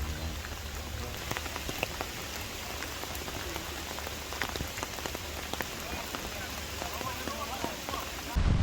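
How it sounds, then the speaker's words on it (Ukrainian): Heavy rain pours steadily at an amateur football match between FC Legin and FC Pokrova, a dense, loud, continuous hiss of drops drumming on surfaces throughout. "в нас злива йде з неба"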